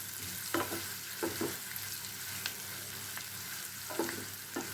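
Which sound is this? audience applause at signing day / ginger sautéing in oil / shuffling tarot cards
ginger sautéing in oil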